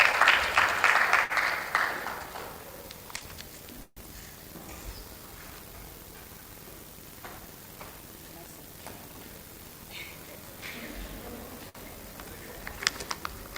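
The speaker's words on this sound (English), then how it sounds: "Please keep clapping until she comes." Audience clapping at a regional conference on women, peace and security, loud at first and then fading within a couple of seconds, leaving a quiet room with scattered small noises and a few faint claps near the end.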